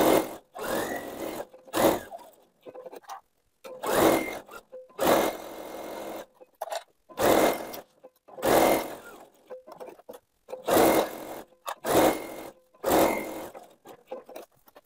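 A sewing machine stitches around the hem of a rectangular fabric placemat in a series of short, steady whirring runs separated by brief pauses, close and moderately loud.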